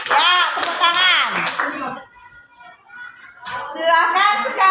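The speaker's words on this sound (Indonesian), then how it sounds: "tepuk tangan buat kelompok 1. Ya, tepuk tangan." A classroom of children applauds a group of students, a loud burst of many hands clapping, then a short pause before the clapping resumes. A teacher's voice mixes in.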